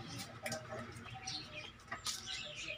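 Pigeons at close range flutter their wings in a few quick bursts between soft cooing and faint chirps, everything quiet and somewhat muffled.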